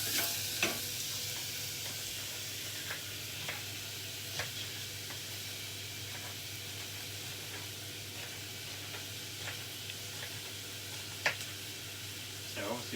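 Onions and garlic fry in a pan with a steady soft sizzle, broken by occasional sharp clicks and taps of a utensil against the pan.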